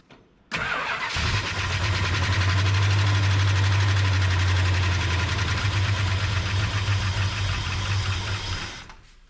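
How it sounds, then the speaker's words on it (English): A Mopar muscle car engine cranks on its starter with no fuel in the lines, pump or hoses, a steady fast whirring chug that goes on for about eight seconds and then stops without catching. "Probably gonna want to prime that carburetor, seeing as how there's no fuel in the lines, or the pump, or the hoses."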